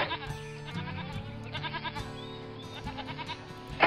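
Sheep at a sheep farm in Railroad Tycoon 2, repeated short bleats over quiet game music, faint and fairly close, ending in a louder burst.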